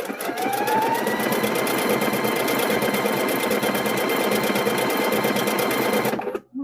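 Steady, close sewing machine run stitching across the side of a kitchen hand towel, a dense rapid needle rhythm lasting about six seconds before stopping abruptly.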